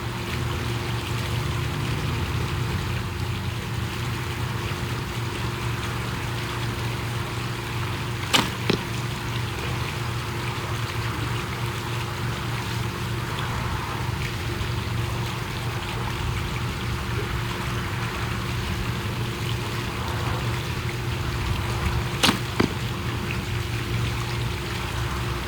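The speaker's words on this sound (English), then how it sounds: "we're going to shoot both the bows from the side now. We'll start off with the TGX" A TimberGhost TGX compound bow fires outdoors from the side, giving two sharp, brief shot releases several seconds apart over a steady, water-like background hush. No one speaks.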